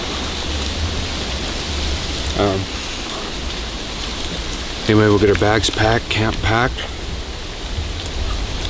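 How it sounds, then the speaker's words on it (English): Rain falls steadily at a mountain elk-hunting camp, a constant hiss of drops on the surrounding surfaces, with someone talking briefly over it. "the rain hits, and it looks like it's already hitting"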